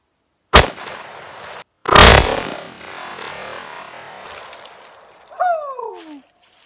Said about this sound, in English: I want to see what will happen when I shoot it with old 44 Magnum